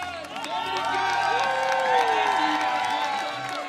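A crowd at a wakeboard big air final in Munich cheers and shouts for a home rider, a sustained roar of voices and whistles with a commentator talking over it.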